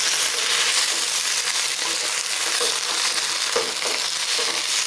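Bottle gourd leaves frying in a pan with steady broadband sizzle, broken by a few soft stirring scrapes and knocks; close and fairly loud, with no talk.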